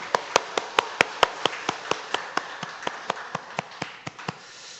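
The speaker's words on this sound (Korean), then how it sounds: "우리 하나님 나라의 주인 되시는 하나님께 영광의 박수 올려드리겠습니다." A church congregation claps in a slow, regular unison rhythm, about twenty sharp claps spaced evenly at moderate loudness, with a soft hall ambience between them.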